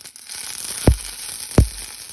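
Red chillies dropped into hot oil while tempering coconut chutney give a soft, steady sizzle with two sharp, close splashing pops that arrive about a second apart.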